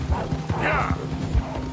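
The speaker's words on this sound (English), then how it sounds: "the horse is panicking" A panicking horse in Red Dead Redemption 2 snorts and whinnies amid quick hoof clops, all fairly close and mixed with game ambience and a voice.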